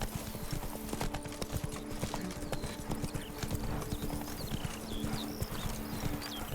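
Hooves of Roach, the horse in The Witcher 3, clop in an even trotting rhythm, close and distinct, over a bed of game ambience with birdsong overhead.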